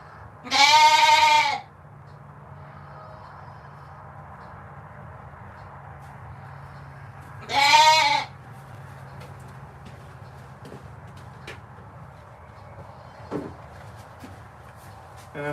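Sheep in a barn stall give two loud, close bleats a few seconds apart, each one long and wavering, over a quiet background hum with faint shuffling.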